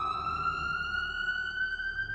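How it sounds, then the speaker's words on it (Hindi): An ambulance siren sounds from outside a building, a steady, loud electronic tone that rises slightly in pitch and carries on without a break. "बिल्डिंग के बाहर से एम्बुलेंस का सायरन सुनाई दिया।"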